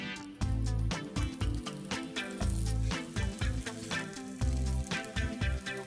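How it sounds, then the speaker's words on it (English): Chicken malai cutlets pan-fry in oil on a hot griddle, a steady sizzle running under loud, rhythmic background music that dominates throughout. "Once the pan heats up, let's pan fry these cutlets."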